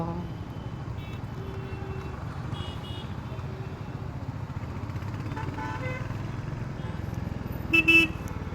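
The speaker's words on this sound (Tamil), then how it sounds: "எவ்வளோ டிராஃபிக்கு எப்பா." Dense city road traffic heard at night from a motorcycle rolling through congestion: a steady engine and tyre rumble with a short cluster of car horn honks near the end.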